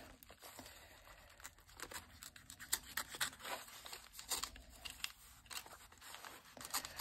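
Scissors cut through envelope paper, with soft crinkling, snipping and tearing in an irregular rhythm, close and quiet with no talk.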